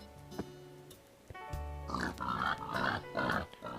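Minecraft pigs grunting and oinking in a video game, several short snorts spaced irregularly, moderately close, followed by a denser cluster of game sounds and squeals.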